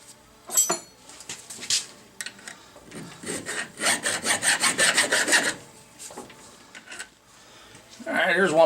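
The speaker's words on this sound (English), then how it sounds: "just need to pop it in gear and hit it with the file" A hand file rasps against a burr on a cotter bolt spinning in a lathe, giving a quick run of repeated strokes with a few metallic scrapes and clinks around it.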